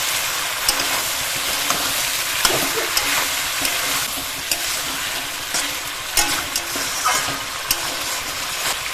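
Mutton sautéing in a pan with chopped tomato, ginger paste and sour yogurt, a steady close sizzle broken by the scrape and clack of stirring.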